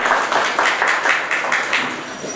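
An audience at a book launch in Romania applauds in a short burst of close, rhythmic clapping, evenly paced and fairly loud, fading slightly toward the end.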